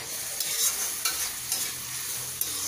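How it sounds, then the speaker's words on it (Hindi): Aloo gobhi sabzi of potato and cauliflower with a little water and green coriander sizzles steadily in a pan over fairly high heat, with soft periodic scrapes and clicks of a spoon stirring it, no voices. "और इसको हल्का सा चलाते रहेंगे।"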